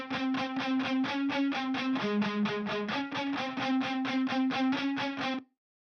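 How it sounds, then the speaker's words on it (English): Metal backing track with distorted left and right lead guitar parts, a loud, steady chugging riff with a sustained melodic line shifting pitch, stopping abruptly after about five seconds. "a left and right guitar track, that are playing any lead parts,"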